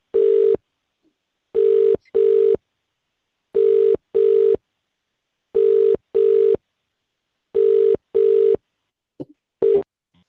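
A telephone line rings out during an outgoing cold call, giving a steady repeating double-beep ringback tone, loud and close, with short silences between pairs and no voices.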